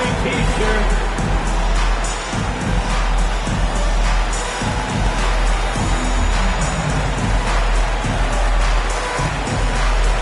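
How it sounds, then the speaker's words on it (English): A crowd in an NBA 2K basketball video game roars and cheers without a break, a loud, dense arena wall of noise that stays steady throughout. "Make some noise, fans."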